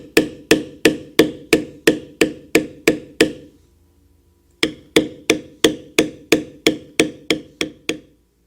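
Mallet blows on a leather bevel tool while tooling a Celtic motif into leather: a steady run of about fourteen crisp, evenly spaced taps, a pause of roughly a second, then another dozen or so at the same pace, close and clear.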